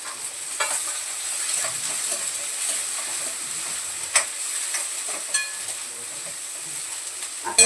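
Onion and curry leaves sizzle in hot oil with green chillies, a soft, steady hiss broken by occasional sharp spatter pops and stirring sounds.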